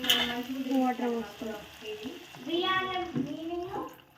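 A glass of water added to a hot, sizzling pan; the frying hiss stays steady underneath continuous talking by a person nearby.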